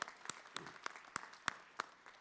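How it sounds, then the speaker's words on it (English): Sparse applause from a small audience at a conference closing ceremony: a handful of distinct, fairly close hand claps spaced out over a couple of seconds, rather than a full ovation. "Round of applause for Hemant and his team, guys."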